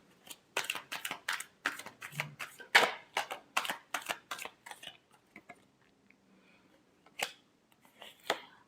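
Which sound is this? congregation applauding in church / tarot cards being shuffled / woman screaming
tarot cards being shuffled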